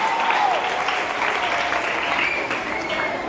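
An audience claps loudly and continuously at an inter-school quick-calculation competition, a dense, sustained round of applause close by.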